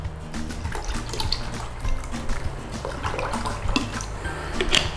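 Water poured into a bowl for yogurt-based naan dough, a steady trickling, splashing stream close by that runs throughout with low kitchen rumble beneath, no talking.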